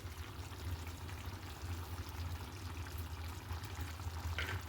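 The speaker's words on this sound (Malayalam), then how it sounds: "ചിക്കൻ ടിക്കയിലേക്ക് ഞാൻ ക്രീം ആഡ് ചെയ്യാണ്." Cream is poured into chicken tikka masala curry, giving a faint, steady liquid hiss that runs unbroken throughout with no talking.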